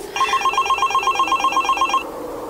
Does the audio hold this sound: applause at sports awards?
no